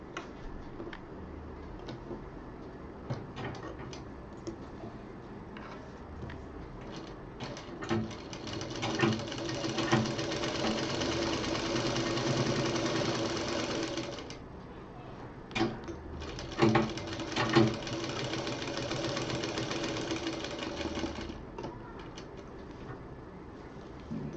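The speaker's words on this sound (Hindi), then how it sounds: "जोड़ने के बाद इसको भी डबल सिलाई चला देंगे।" A sewing machine runs double stitching along the seams of a round cushion made from joined triangular fabric pieces, in two sustained bursts of steady whirring with short pauses and handling clicks between them.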